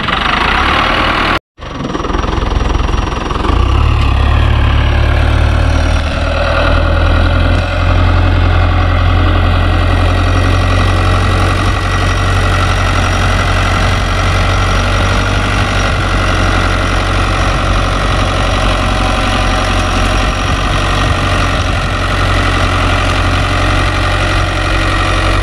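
A tractor engine drones loudly and continuously while plowing land in Jamaica, a steady low rumble after a brief cut near the start, with no voices.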